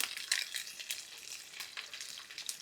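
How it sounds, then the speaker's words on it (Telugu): Onions and green chillies fry in a pan with mustard seeds, a steady close sizzle crackling throughout with small bursts and pops, no voices. "ఆనియన్స్ పచ్చిమిర్చి వీటన్నిటిని పచ్చివాసన పోయేంత వరకు దోరగా వేయించుకోవాలి"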